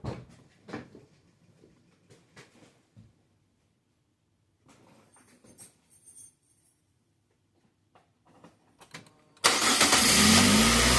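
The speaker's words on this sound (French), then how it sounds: "je vais démarrer le véhicule pour que je lui donne un coup de booster" After some quiet handling clicks and knocks, a car engine cranks and fires near the end, jumping to a loud, steady running roar after a battery replacement.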